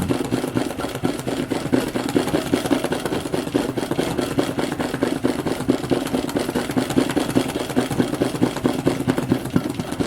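A sewing machine stitches free-motion embroidery with the feed dogs down, a fast steady mechanical chatter of needle strokes that runs continuously, close and loud, with no talking.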